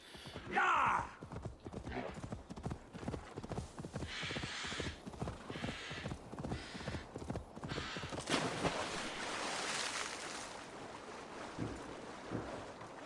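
Horse hooves clip-clop at a steady galloping rhythm in the Assassin's Creed Valhalla video game, with wind and a splashy water-like wash rising toward the end, under faint game ambience.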